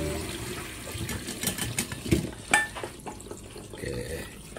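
Tap water runs and splashes in a sink while lemongrass, garlic and shallots are rinsed by hand, with a few louder clatters and splashes partway through and no talking.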